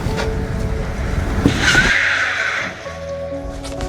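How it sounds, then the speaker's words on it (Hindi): A car engine runs with a rough, noisy roar that swells and then drops away as it stalls and cuts out, leaving a quieter hum behind. "शिट यार, इस गाड़ी को भी अब बंद होना था।"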